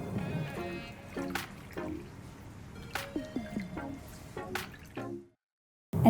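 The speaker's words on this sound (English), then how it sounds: "I'm going to strain off this braising liquid and then pour that flavor packed liquid straight back over the top of the pork." Strained, flavor-packed braising liquid trickles and drips back over cooked pork belly in a kitchen, a run of wet splashes and drips close by, pausing into silence near the end.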